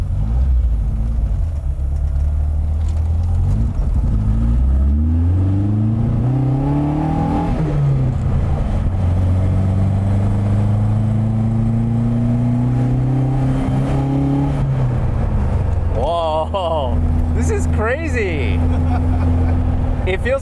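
A restored widebody, rear-wheel-drive Toyota Starlet with a TRD race motor drives hard from inside the cabin, its engine loud and buzzing as it revs up through repeated rising sweeps and shifts, with people talking over it.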